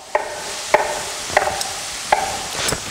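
Knife cutting pre-made crescent rolls into quarter-inch pieces on a board, four crisp sharp chops spaced about half a second apart, close and clear with no talking.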